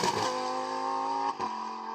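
A rear-wheel-drive Lamborghini Huracan engine revs hard under acceleration, a loud steady tone with a brief dip as it shifts gear, then pulls on strongly, close and without speech.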